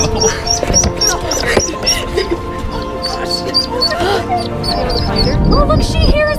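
Four baby ducks, fallen into a sewer den, peep and quack in a rapid stream of high chirps over background noise and voices.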